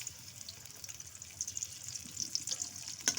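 Chopped onion and garlic fry in oil in a wok, a steady close crackling sizzle that builds slightly toward the end, with no voices.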